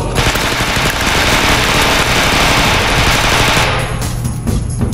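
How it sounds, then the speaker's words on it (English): Dense, sustained automatic gunfire in a video game roars loudly and continuously for several seconds, a rapid rattling barrage that eases off slightly toward the end. "I heard the gunshots"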